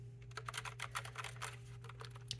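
Someone types quickly on a Logitech Pop Keys mechanical keyboard, producing a dense run of crisp clicky keystrokes over a faint steady hum.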